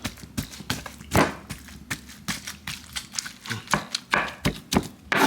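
Smoked beef being chopped with a bench scraper on a board: a rapid, uneven run of sharp knocks, about a dozen close, crisp strikes with short pauses between.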